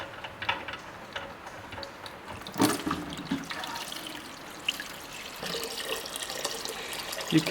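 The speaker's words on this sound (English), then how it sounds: "So let's drain this one now." Oil drains from a Toyota 2JZ engine oil pan with baffles, a continuous liquid trickle and splash with occasional ticks and knocks, fairly close and moderately loud.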